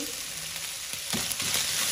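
Keema noodles frying with soy sauce in a hot pan, a steady close sizzle with brief stirring scrapes and no talk.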